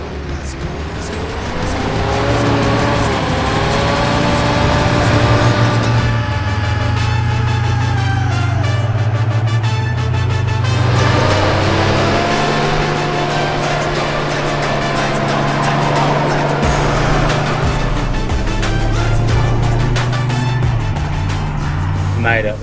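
A 4WD grinding through very soft sand on Fraser Island, its engine roaring and straining with shifting revs and wheel noise over about twenty seconds, while people shout and talk over it.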